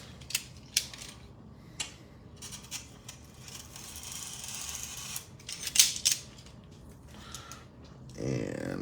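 Scissors trimming paper at a craft table, several close crisp snips spaced across the stretch, with soft handling rustle and a low background hum.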